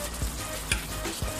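Fried eggplant slides into a pan of cooked milkfish for coconut-milk ginataang bangus, setting off a steady, close sizzle with a few soft thumps as pieces land.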